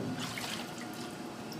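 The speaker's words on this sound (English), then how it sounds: "I'm going to send it through the rinse compartment to get rid of all of the soap." A pan is rinsed in the rinse compartment of a commercial dishwashing setup, with a steady, close hiss of running water splashing continuously and no voices.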